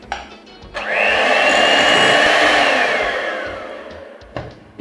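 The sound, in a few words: mixer mixing plantain cake batter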